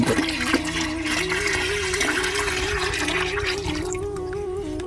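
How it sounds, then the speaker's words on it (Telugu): Dissolved jaggery water poured into a jeevamrutham natural-farming mix, a steady, continuous liquid pour with a faint tonal ring, close and fairly loud, with no talking. "బెల్లం నీళ్ళుగా పోసుకోవాలి."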